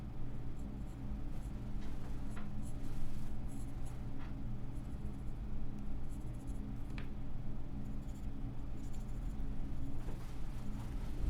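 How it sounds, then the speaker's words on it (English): Pen or pencil drawing a ladybug on paper, a continuous soft scratching and stroking close by over a steady low background hum. "But I'm drawing a ladybug."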